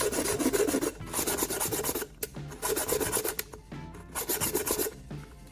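Sandpaper scrubbing paint and coating off the bottom of an aluminum can, close and steady, in fast repeated rasping strokes with brief pauses between bursts.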